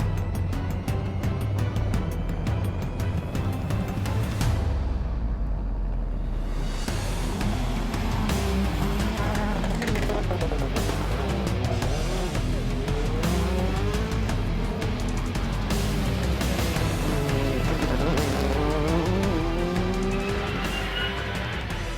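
A Rally 2 car drives a stage of the Rally di Roma Capitale 2021, its engine revving hard and changing pitch through gear shifts, with tyre squeal and gravel noise, loud and close throughout.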